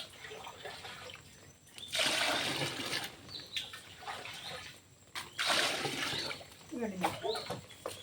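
Liquid fertilizer mixed into water is stirred in bursts, making sloshing, splashing swirls that rise and fall, loud in two main stretches with quieter pauses between them.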